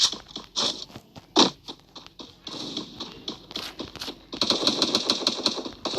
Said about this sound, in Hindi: यहाँ पे फायरिंग चल रही है।